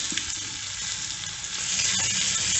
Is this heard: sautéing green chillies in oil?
yes